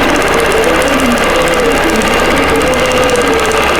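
A longarm quilting machine stitches a small element on a quilt near an appliqué, giving a steady, loud, continuous mechanical whir with a fast rhythmic pulse throughout.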